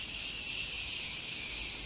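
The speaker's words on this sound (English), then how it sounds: "I'm gonna go ahead and set my face with the Morphe setting spray," A continuous, close spray of makeup setting spray onto a face hisses for about two seconds, a bright airy mist sound with no pauses.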